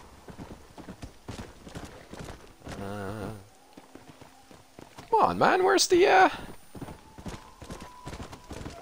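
Steady clip-clop of a horse's hooves walking in the video game Red Dead Redemption, with a whinny and other game sounds in between and someone talking over it.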